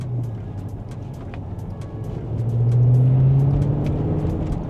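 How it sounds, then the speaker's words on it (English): The V8 engine of an Audi RS6 Avant at an Esso fuel station in winter, a close, steady low rumble that swells louder partway through and then stays full, with no talking. "Oh, I love the sound of that V8."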